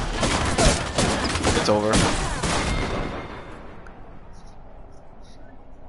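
A cluster of rapid gunshots from the video game Apex Legends rattles for about three seconds, then trails off into quiet. A voice speaks over the shooting.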